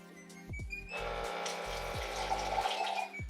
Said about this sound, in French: l'autre chose que j'ai mis en place, c'est ce petit robinet